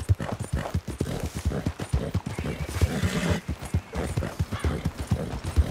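Horse hooves clip-clopping in the Red Dead Redemption 2 video game, a steady rhythmic trot of close, loud hoofbeats with brief whinny-like tones midway.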